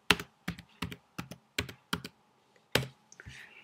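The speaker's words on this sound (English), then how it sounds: "we want to type into Google" Close, crisp keystrokes on a computer keyboard come in about eight distinct bursts of tapping, with short pauses between them and no talking.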